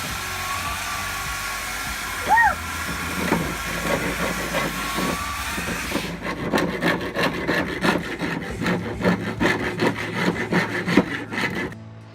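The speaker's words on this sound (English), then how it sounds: "After the Bondo dried, it had to be sanded as well." Dried Bondo filler on a laminate countertop built over OSB being sanded, a steady abrasive rasping that grows into rapid back-and-forth scrubbing strokes in the second half, close and fairly loud, no speech.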